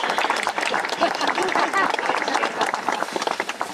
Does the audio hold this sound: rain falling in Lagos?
no